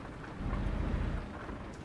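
Rain in the truck-driving game Euro Truck Simulator 2 hisses as a steady dense wash with a low rumble swelling in the middle, near and fairly loud, with no talk.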